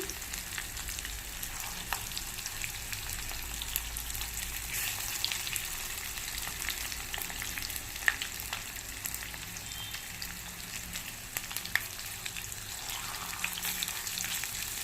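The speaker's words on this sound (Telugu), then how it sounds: "నేనైతే కొంచెంగా ఫ్రై చేస్తున్నాను." Food frying gently in a pan on a stove over low heat, a continuous even crackling sizzle with occasional small pops, with no one speaking.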